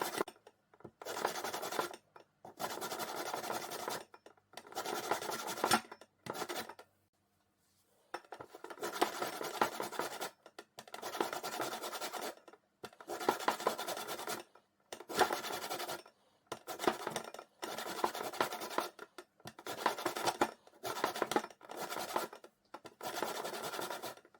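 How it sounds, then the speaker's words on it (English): Lemons are rubbed against a grater for zest in rapid scraping strokes that come in repeated bursts with short pauses between them, close and fairly quiet, with no talking. "let's grate all 6 lemons for the lemon zest and place in a bowl and put to one side"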